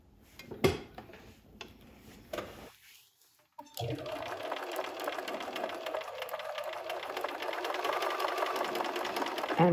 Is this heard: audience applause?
no